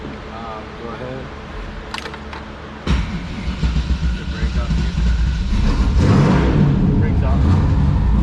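A vehicle engine is started with a key: a few quiet clicks, then a sudden cranking catch that settles into a loud, steady idle rumble. Someone speaks briefly near the start.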